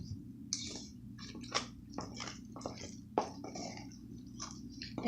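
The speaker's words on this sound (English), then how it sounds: "After adding the milk, I'm slowly adding the water now." Water being poured slowly into naan dough with milk already mixed in, giving soft wet squishing and sticky kneading sounds in irregular close bursts over a low steady hum.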